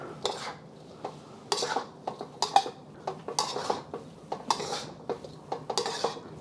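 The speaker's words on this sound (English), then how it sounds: "This is another reason why I like using a wok, because you can do so much stirring with a bigger vessel." A utensil stirs egg roll in a bowl ingredients in a wok: close, repeated metallic scrapes and clinks come in an uneven rhythm over a soft background, with no talking.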